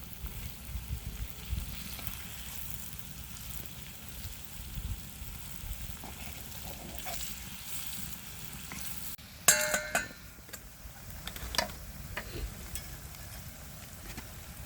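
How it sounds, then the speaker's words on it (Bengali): Palm fritters (taler bora) keep frying in hot oil after being flipped, giving a continuous moderate sizzle with a few clinks and scraping stirs near the middle and no talking. "পিঠাগুলো উল্টে দিচ্ছে।"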